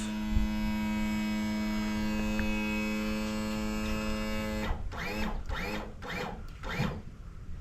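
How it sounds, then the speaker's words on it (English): A Mercury outboard's electric power trim motor runs with a loud, steady mechanical hum and whine, close up, then gives way to several short rhythmic grinding bursts near the end. "turn your motor on and trim it back to where it's just about to hit"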